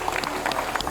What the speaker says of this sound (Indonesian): Kita kasih tepuk tangan dulu buat Mas Marcel.